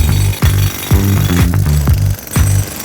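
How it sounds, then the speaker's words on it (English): Jackhammer chipping away old pool plaster during demolition, loud repeated bursts of hammering with brief pauses between them, close by and without talk. "the next step is going to be the demolition"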